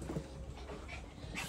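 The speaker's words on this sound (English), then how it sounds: "You just want to bark because you can bark." A Chihuahua whimpers and pants close up, with soft breathy panting and small whiny yelps in a steady noisy indoor setting.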